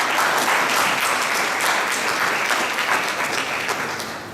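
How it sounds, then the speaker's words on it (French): An audience at a diaspora association's official launch event applauds together, a dense, loud, continuous wash of clapping that holds steady for several seconds and fades slightly at the end. "Applaudissons encore une fois."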